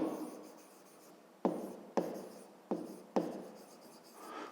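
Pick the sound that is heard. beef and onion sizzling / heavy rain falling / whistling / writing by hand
writing by hand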